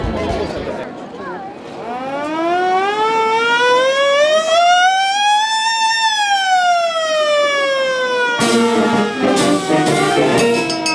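A fire truck siren at a fire station in Shizuoka, Japan wails loudly, rising slowly to a peak and falling again, then breaks into rapid stuttering blasts near the end.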